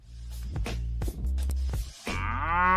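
Large cattle lowing close by: a series of deep, resonant moos in quick succession, the last one rising into a longer, higher-pitched bellow.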